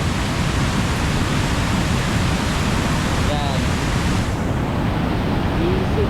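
Floodwater rushes steadily around a truck fording a flooded road, a continuous loud broadband wash like surf that thins out near the end, with people talking faintly over it.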